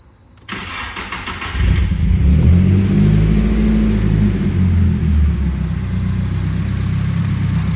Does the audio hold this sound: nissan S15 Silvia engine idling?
yes